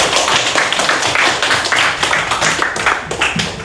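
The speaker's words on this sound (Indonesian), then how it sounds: "Oke, tepuk tangan ke Bulan." A classroom of students clapping their hands together, a dense, loud patter of many claps close by, continuing steadily throughout.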